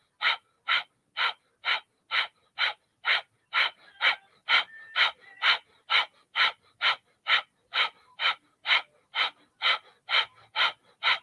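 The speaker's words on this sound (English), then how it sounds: "you'll begin breath of fire" Breath of fire during a kundalini yoga flow: sharp rhythmic nasal exhales repeat about twice a second for over ten seconds, close and forceful, with no talking over them.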